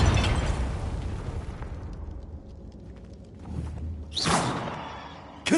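Two loud Confringo blasting-spell explosions in Hogwarts Legacy, each a sharp booming burst. A low rumbling tail and quieter ambience lie between them.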